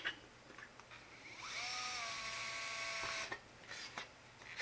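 A small rotary drill whines steadily as it cleans out a flat spot on a plastic UFO model, the high tone holding for a couple of seconds between brief bursts and quiet handling noises.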